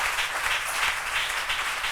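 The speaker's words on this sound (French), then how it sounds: "Et on acclame le nom de Jésus-Christ." A church congregation applauds in a steady wash of clapping from many hands, close and continuous for two seconds.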